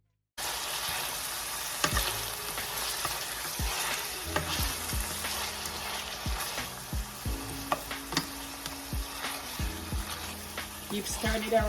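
Onions and vegetables sauté in hot oil in a pot, a steady close sizzle running throughout with repeated scraping and clacking strokes of a spoon stirring them around.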